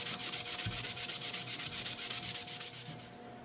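Hand sanding with sandpaper on a tool being restored, a close, rhythmic back-and-forth scraping of about twenty even strokes that fade slightly toward the end, with no talking.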